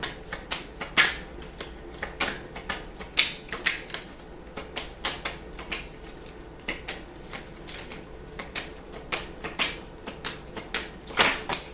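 A deck of tarot cards being shuffled in a run of quick, irregular riffling bursts and crisp snaps, close and clear with no voices.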